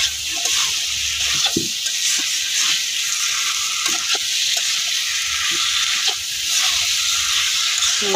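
Masala spice paste sizzles in a pan with potatoes and taro, giving a loud, continuous frying hiss broken by soft scraping stirs.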